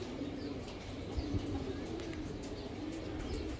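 Pigeon cooing from a racing-line flying pigeon, a soft low steady coo running continuously under faint background chirps.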